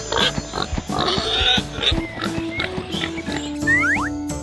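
A pig grunts and squeals up close in a series of loud, rough calls that run one into the next, with no voices over them.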